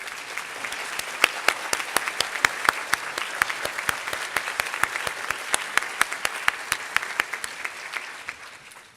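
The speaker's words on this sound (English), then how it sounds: "I want to give him a big round of applause and congratulations." An audience at a hospital research meeting gives a round of applause, steady even clapping across the room with distinct nearby claps popping out, sustained for the whole stretch before tapering at the end.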